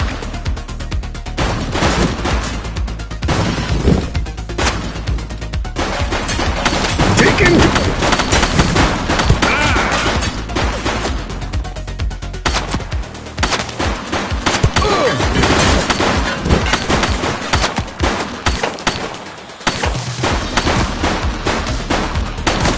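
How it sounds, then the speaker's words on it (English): Gunfire in the police sandbox game The Precinct rattles in loud, dense bursts of rapid shots, overlapping and nearly continuous, with brief lulls before the firing picks up again. "Shots fired!"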